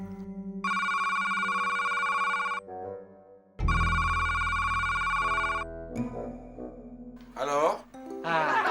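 A phone ringtone plays in two long bursts with a pause between, followed by brief speech in Indonesian as someone picks up; the ring is loud and close.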